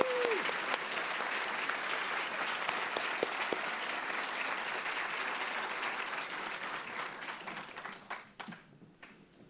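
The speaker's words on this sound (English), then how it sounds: "Can everyone give them a round of applause?" An audience at a university nurse pinning ceremony breaks into sustained applause, dense steady clapping filling a large hall that tapers off into scattered final claps near the end.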